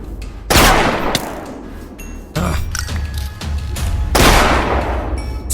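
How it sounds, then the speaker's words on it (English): Cannons firing in the Minecraft Create video game, a series of loud explosive bursts with ringing tails, two big blasts standing out among repeated rumbling shots. "So it looks like my cannons are mainly for shooting down the roadblocks."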